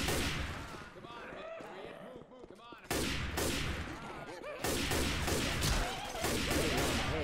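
Continuous heavy gunfire in the video game Left 4 Dead 2, a dense barrage of rapid shots that keeps going and grows louder partway through, with players talking underneath.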